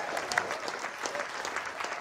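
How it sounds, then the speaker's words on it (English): Applause from an audience at a student design awards event, brisk even clapping at moderate distance filling the short span without talk. "round of applause for these guys doing a presentation"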